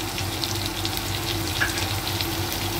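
Chopped onion, finely cut ginger and dried red chilli fry in a pan for bitter gourd and chana dal, giving a steady close sizzle and crackle with no talk.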